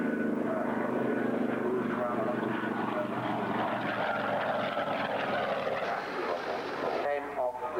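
A propeller aeroplane engine drones steadily in flight, a loud broad hum that holds throughout and thins near the end, under a voice talking.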